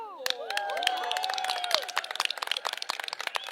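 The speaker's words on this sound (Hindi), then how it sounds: "अरे ताली बजा दो, बहुत मेहनत करके बनाया है।" A crowd gathered around a roadside campaign vehicle in Chandigarh breaks into scattered clapping, sharp claps growing more distinct and rhythmic as voices fade in the background.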